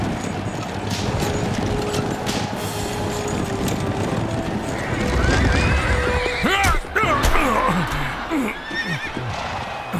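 Cartoon racing horses in a Roman-era race neigh and whinny loudly over a rumbling gallop of hooves, with several shrill overlapping whinnies near the end.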